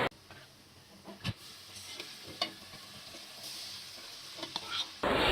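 A spice masala with cinnamon and cardamom is stir-fried in a pot for haleem, giving a soft continuous sizzle with occasional spoon scrapes and knocks, fairly quiet and up close.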